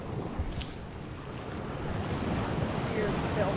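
Ocean waves wash in on the beach at Kitty Hawk, a continuous broad roar that builds slightly toward the end, mixed with wind buffeting the microphone.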